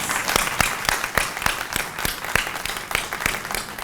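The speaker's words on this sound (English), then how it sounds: "Can we actually give Mayor a round of applause?" A small audience at a community blight bootcamp gives the Mayor a round of applause: close, loud, rhythmic clapping in a steady even beat, with a few hands clapping together.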